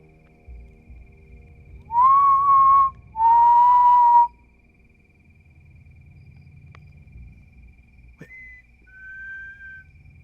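A person whistles outdoors at night in the Superstition Mountains: two sustained whistled notes in quick succession over a quiet background, followed after a pause by a short click and two fainter, distant whistle tones.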